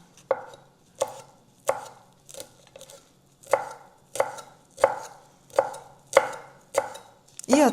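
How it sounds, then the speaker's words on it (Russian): A knife finely chops rolled mint leaves on a cutting board in a steady series of about a dozen crisp, close knocks, with no voices. "Вот так сворачиваем и мелко нарезаем."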